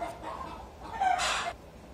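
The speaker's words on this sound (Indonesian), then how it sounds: "Itu ayam itu tadi itu bising betul sebab dia mau bertelur itu" A hen about to lay an egg clucks and squawks in a few loud, agitated bursts, fairly close, over a soft background hiss.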